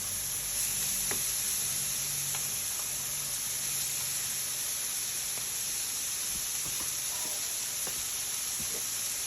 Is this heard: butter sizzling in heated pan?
yes